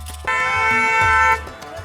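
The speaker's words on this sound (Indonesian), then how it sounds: "Suara klakson kendaraan yang tiada henti" A vehicle horn blares in one long, loud sustained honk amid New Delhi street traffic, with the low rumble of engines beneath and a brief fainter toot after it.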